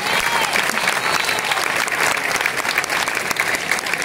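Enthusiastic applause from a crowd fills the space, a dense, continuous clapping that holds steady throughout.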